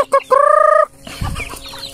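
Close chicken sounds: a couple of short clucks, then a sustained squawking call, followed by softer rustling and faint clucking in the background.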